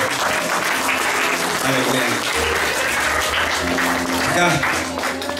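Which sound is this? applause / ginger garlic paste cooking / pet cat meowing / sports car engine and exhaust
applause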